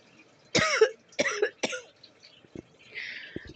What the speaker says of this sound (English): I'm constantly coughing for no reason.